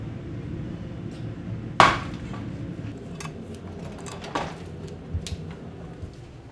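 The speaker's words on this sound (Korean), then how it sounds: "이렇게 해가지고 요거를 망치를 치면 깨져요." A hammer strikes cast metal pieces poured in a mold, one sharp loud crack followed by a few lighter knocks and clinks against a steady low background hum.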